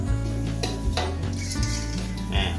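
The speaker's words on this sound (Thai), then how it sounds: "แล้วเราก็มาทอดอีกทีนึงสีมันจะสวยมากครับ" Pork belly, cut into large chunks and boiled, sizzles steadily as it fries in a pan, with stirring scrapes and clinks of utensil against metal close by.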